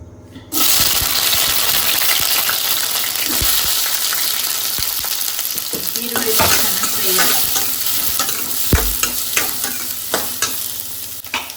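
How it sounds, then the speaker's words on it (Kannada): Onions frying and being stirred in hot oil in a pan for an egg and drumstick-leaf stir-fry, a steady loud sizzle with scraping stirs and occasional clinks of the spatula, no voices. "ಇವಾಗ ಈರುಳ್ಳಿ ಫ್ರೈ ಆಗಿದೆ"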